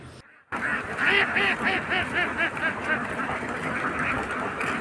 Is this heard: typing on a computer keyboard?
no